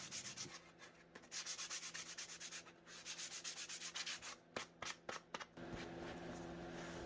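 Sanding wood furniture by hand with 220 grit sandpaper: steady rhythmic scratchy back-and-forth strokes, close and fairly quiet, with a pause midway and some short separate swipes near the end.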